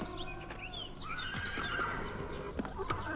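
A horse whinnies loudly and close, a long shaky neigh with a brief clip-clop of hooves at the end, heard over a steady background hum and with no voices.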